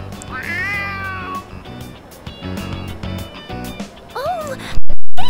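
Stray cat meowing in the Persona 3 Reload video game, several drawn-out rising and falling meows up front and another near the end, over a steady game music bed before a brief cut to silence.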